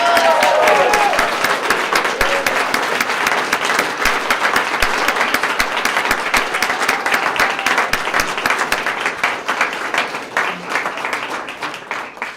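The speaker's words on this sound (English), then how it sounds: "Let's give them a round of applause" Sustained applause from an audience at a Sarasota police swearing-in ceremony, dense steady clapping filling the room for about twelve seconds and thinning slightly toward the end, with faint voices mixed in.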